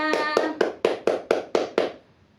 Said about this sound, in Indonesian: Beri tepuk tangan untuk Mas Prabu dan Mbak Syakira.